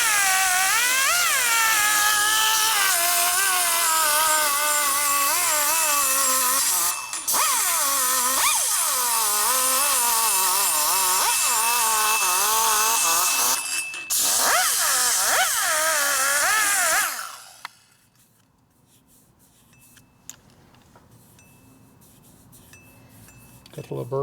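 High-speed rotary cutter grinding and porting a Screaming Eagle 80 ci Harley Evo cylinder head, a loud continuous whine rising and falling in pitch with brief pauses, running close for about seventeen seconds before cutting out to near silence.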